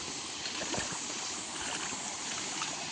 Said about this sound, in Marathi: पण इकडे एकदम पूर्ण झऱ्याचं पाणी आहे.